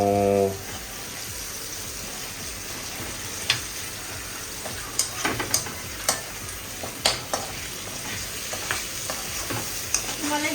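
Oil sizzles steadily in a pan while onions are stirred, with scattered scraping clicks and taps from the spoon throughout.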